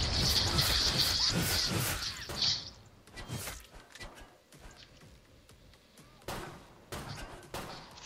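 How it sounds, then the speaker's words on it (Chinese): Gunfire and impacts ring out in the video game Killing Floor, bursts of shots and crashes that are loud at first and then come more sparsely. "佢喺后边开枪"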